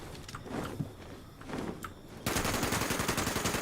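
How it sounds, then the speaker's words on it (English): Gunfire in the online game Fallout 76 opens with scattered shots and movement, then turns into a dense, loud burst of rapid automatic fire that carries through to the end, with no talking. "Are you seriously shooting at me?"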